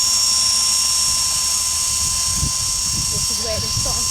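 A toy remote-controlled helicopter hovers overhead with a steady high-pitched electric whine and a constant tone, while voices talk and move below it.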